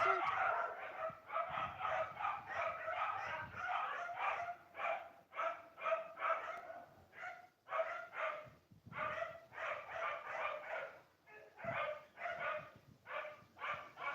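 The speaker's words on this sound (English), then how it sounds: "I'm not going to overtalk these dogs." Several dogs bark and yip over and over in quick, uneven bursts, fairly close and loud enough to dominate, with short gaps between volleys and a faint whimpering tone mixed in.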